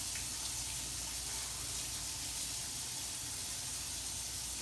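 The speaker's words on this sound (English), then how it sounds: "Okay, so I'm gonna wash my hands." Tap water runs steadily into a sink while hands are washed in a kitchen, a continuous soft hiss of flowing water throughout with no talking.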